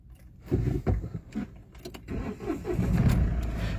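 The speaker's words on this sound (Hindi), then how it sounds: "तो सबसे पहले मैं कार को कर लेता हूँ स्टार्ट।" A car engine cranks and catches, rising into a steady idle rumble after a few mechanical clicks, heard close with no talking.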